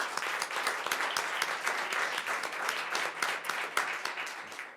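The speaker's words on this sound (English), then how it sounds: "So let's give them a round of applause." A school board meeting audience applauds the state champion varsity cheerleaders, a steady wash of many hands clapping at moderate level, fairly close, with no talk over it.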